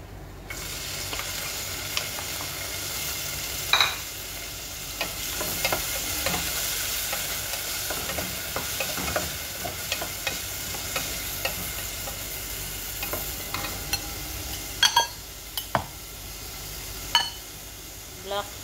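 Vegetables stir-frying in a pan at home, with a steady broad sizzle and scattered clicks of a utensil against the pan throughout, plus a few sharper scrapes near the end.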